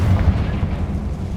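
A single loud, deep blast from the Confringo fire spell in the Hogwarts Legacy video game, a rumbling explosion that fills the short moment.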